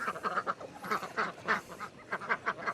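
A pet goose calls repeatedly in a series of loud, close honking quacks with short gaps between them.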